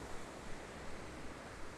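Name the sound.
ocean waves washing on a beach, sound installation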